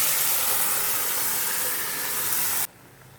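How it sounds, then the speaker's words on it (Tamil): Cooked bottle gourd and chana dal going into a hot pan and being stirred, a loud continuous hiss and sizzle that cuts off abruptly near the end. "இப்போ நம்ம வேக வச்சுருக்க சொரக்காவும் கடலைப்பருப்பும் இதில் ஆட் பண்ணிக்கலாம்."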